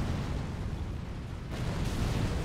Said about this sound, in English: Like the initial explosion was too close.